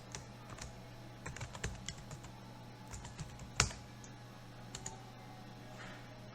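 Someone types an email address on a computer keyboard while setting up a Moodle installation, quiet irregular key clicks with one sharper tap, close and soft, no voices.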